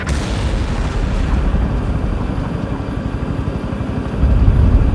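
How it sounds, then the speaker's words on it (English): Heavy artillery explosions in the video game Tom Clancy's EndWar: loud, continuous booming barrage with deep rumbling impacts, swelling louder near the end. "Artillery fire on our position."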